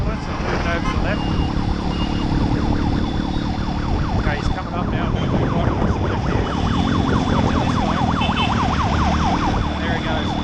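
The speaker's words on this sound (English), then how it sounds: "I can hear a ambulance, I'm moving over to the left." An ambulance siren wails in rising and falling sweeps, drawing nearer and growing louder through dense Nepal traffic with motorcycle and engine noise around it, while a rider talks over it.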